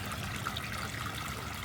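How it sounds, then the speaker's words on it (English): Steady splashing trickle of pond water pumped into a filtration tub, heard close up as a continuous watery rush with no pauses. "So it's pumping water from the pond into here, see it?"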